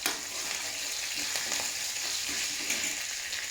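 Curry leaves frying with ginger and garlic in a pan for mango pickle, a loud, dense, steady sizzle and crackle throughout with faint stirring.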